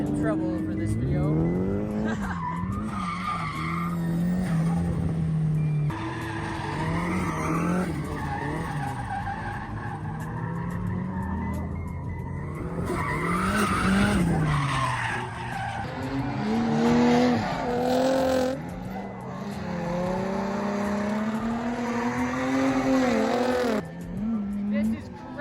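A Nissan S14 spins out on a track, its tires squealing and skidding in long wavering screeches while the engine revs rise and fall; excited voices talk over it throughout.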